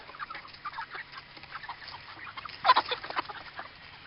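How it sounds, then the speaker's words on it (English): Chickens clucking steadily at close range, a busy overlapping chorus with one louder burst near the end, no talking. "Good morning, chickens."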